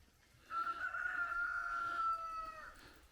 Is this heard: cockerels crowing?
yes